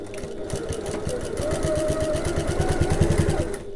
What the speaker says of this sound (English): So I'm just sewing at 1/8 of an inch